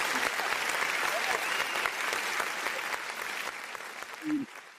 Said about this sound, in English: can we get a hand clap?